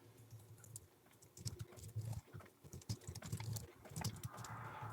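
Fingers tap out a short burst of keystrokes on a computer keyboard, a quick, uneven run of soft close clicks with small pauses, heard alone without speech.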